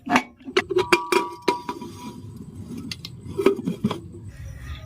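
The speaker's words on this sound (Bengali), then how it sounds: "এবার প্রেসার কুকারের ঢাকনাটা আমি লাগিয়ে দিচ্ছি।" A metal pressure cooker lid is fitted onto the pot, heard as a close series of sharp clinks and clanks, several in quick succession, then a brief pause and a few more knocks, with no talking.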